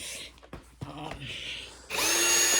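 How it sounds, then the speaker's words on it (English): A power drill unscrews screws from the power head of a Shark NV501 vacuum, with a few clicks and handling sounds first, then a sudden steady whirring close by that runs to the end. "So we are going to be unscrewing most of the screws off this."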